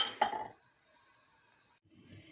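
Brief glassy clink as a lid is set onto a glass jar filled with cherry and mint compote, a sharp tap at the start followed by a soft rattle and quiet handling, with no talking.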